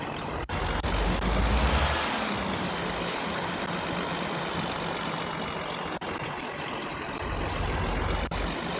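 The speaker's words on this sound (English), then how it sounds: "That truck got really close to me." A large truck in a video game rumbles past very close, its engine drone loud and steady for the whole stretch, swelling at first and then easing slightly. No one speaks.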